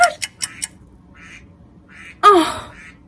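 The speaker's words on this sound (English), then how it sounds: "who put the duck sound as my alarm?" A phone or clock alarm plays a duck-quack sound effect: a few quick sharp clicks, soft quacks, then one louder quack near the end.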